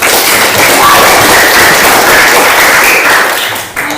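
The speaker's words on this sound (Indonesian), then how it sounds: "Oke, aplaus dulu untuk" Classroom students clapping together in a loud, dense burst of applause that holds steady for several seconds before tapering off at the end.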